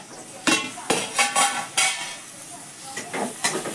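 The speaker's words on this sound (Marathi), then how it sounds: "आता आपण झाकण काढतो" A lid is lifted off a pan of roasting green masala on low gas, followed by a series of sharp metallic clinks and scrapes of a spoon against the pan over a soft background sizzle.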